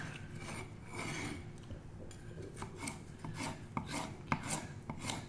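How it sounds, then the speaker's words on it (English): A knife cuts seafood pizza ingredients into thin slices on a board, giving rasping, rubbing strokes with sharper taps where the blade meets the board, close and fairly quiet. "Run the knife over it, it'll cut right on through very easily, very quickly."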